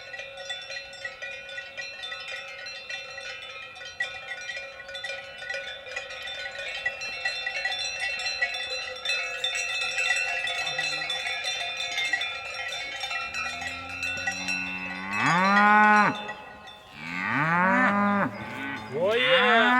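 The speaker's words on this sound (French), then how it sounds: "mon voisin Walter va déplacer ses vaches et il va les changer de parcelle" Cowbells clang steadily as a herd of cattle is moved to another pasture, then several loud, drawn-out moos from nearby cows break in toward the end.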